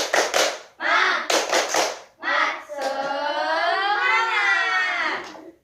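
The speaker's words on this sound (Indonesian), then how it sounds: "Tepuk semangat" Young pupils in a third-grade elementary classroom do a rhythmic spirit clap, sharp bursts of hand claps in quick groups alongside loud chanted voices that swell into a long sustained shout.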